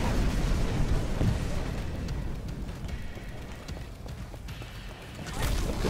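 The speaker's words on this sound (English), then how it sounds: "Ah, run away from explosion." Explosion in the Titanfall video game, a loud dense rumble with bursts and crackling that fills the whole stretch, swelling again toward the end, with no speech over it.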